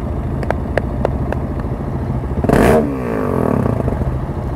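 A motorcycle engine revs on a road in Sweden, a loud close drone with a brief surging rev in the middle before settling back to a steady running tone.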